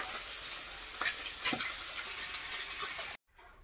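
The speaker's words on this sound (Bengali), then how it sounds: "আমি বাকি মাছগুলো ভেজে নিচ্ছি" Pieces of katla fish frying in hot oil in a village kitchen in the Sundarbans, giving a steady close sizzle with a few brief stirring clicks, cut off abruptly near the end.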